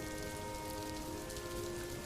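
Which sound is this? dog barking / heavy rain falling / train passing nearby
heavy rain falling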